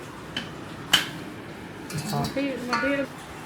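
Dishes and pots clink and knock against each other in a few sharp, close hits, while voices talk nearby.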